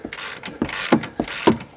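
A ratchet tightening a nut on a limiter strap during a Turbo R / Pro R install, giving three loud, close bursts of rapid pawl clicking with short pauses between them.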